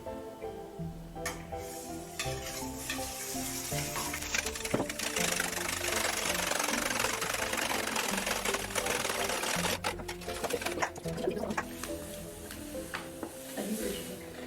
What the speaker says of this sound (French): Une fois que vous avez cassé vos 4 œufs et que vous les avez mis un par un dans le saladier, il faut touiller